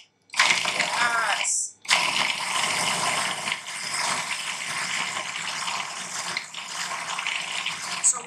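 A food processor grinds muhammara ingredients in a loud, steady whir that stops briefly and then starts up again, with a rattling mechanical edge.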